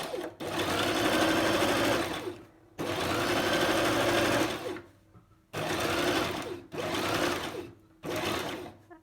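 Sewing machine stitching a dart in fabric, a close, loud rapid mechanical whir in four bursts of one to three seconds each, separated by short silent pauses as the sewing stops and starts.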